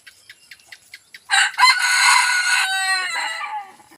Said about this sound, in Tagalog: tumitilaok siya.